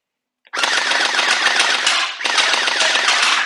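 An ASMRCAP M416 electric gel ball blaster fires two loud, close full-auto bursts, the first about 1.7 seconds long and the second about 1.3 seconds long, with a short gap between them. Each burst is a rapid buzzing rattle of shots.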